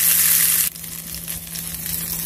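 Butter sizzling in a hot frying pan before an omelette, a loud crackling hiss that drops abruptly to a softer steady sizzle, close up with no talking.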